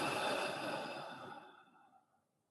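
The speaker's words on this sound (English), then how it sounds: "and an exhale through your mouth." A long, audible exhale through the mouth during a guided meditation, soft and close, a breathy sigh tapering gradually into quiet.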